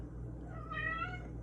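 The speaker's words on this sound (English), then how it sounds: "That's my cat. Don't mind him." A male house cat gives one drawn-out, whining meow for attention, rising and then fading, fairly faint and close, over a steady low room hum with no speech.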